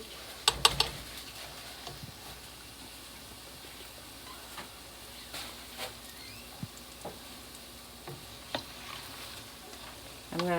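Meat-filled beignets frying in hot oil, a steady close sizzle and crackle with a few sharper pops and spatters scattered throughout.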